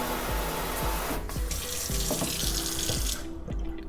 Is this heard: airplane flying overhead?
no